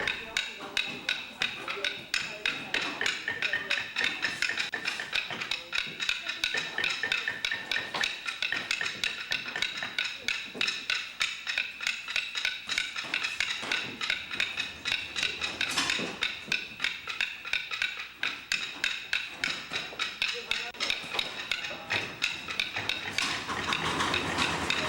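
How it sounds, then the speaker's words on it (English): A length of wood used as a small hammer taps layered paper firecracker tubes to crimp them shut at a Chinese firecracker workshop, a rapid, steady run of sharp knocks throughout, with narration over it. "require the layers to be crimped in with the help of a length of wood used as a small"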